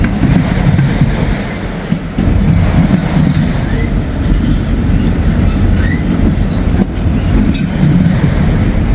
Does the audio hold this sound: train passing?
yes